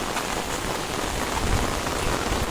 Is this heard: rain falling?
yes